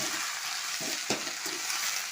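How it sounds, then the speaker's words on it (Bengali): Red amaranth greens (lalche shak) dry frying in a pan with no water, giving a steady, close sizzle with a few brief stirring scrapes and no talk. "পুরো শুকনো ভাজা করব এতে কোনো জল টল কিছুই দেবো না"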